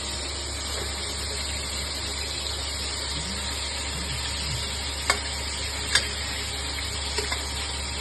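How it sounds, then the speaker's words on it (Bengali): Vegetarian masala of ground coriander, cumin, tomato and potato frying in a pan, with a steady soft sizzle throughout and a few sharp clinks of a spoon stirring near the end. "এখানে তরকারির জন্য মশলাটা কষিয়ে নিচ্ছি।"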